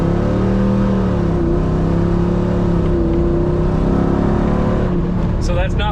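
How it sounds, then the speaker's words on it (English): A Jeep Wrangler with a swapped 6.4 Hemi V8 rumbles loudly close by under moderate throttle, a deep steady engine drone building slightly, with a voice talking over it. "let's just see, let's give it a little gas"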